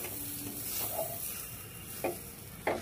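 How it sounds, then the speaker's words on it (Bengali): Lentil paste being stirred in a pan on the stove over medium heat, giving a soft continuous sizzle with a few brief scraping strokes near the end. "ভালো করে নাড়তে হবে যেন ডালটা পোড়া না লেগে যায়।"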